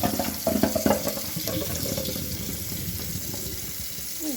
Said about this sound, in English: let's go ahead and get these rinsed.